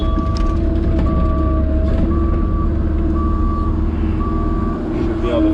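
Steady repeating reversal beeps from a truck being loaded with crusher run at a hillside homestead dig, sounding loud over constant heavy engine rumble, with some speech nearby.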